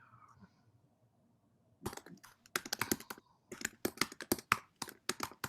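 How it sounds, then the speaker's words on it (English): Brisk typing on a computer keyboard starts after a quiet moment, close by, with irregular clusters of clicky keystrokes. "I can hear somebody typing."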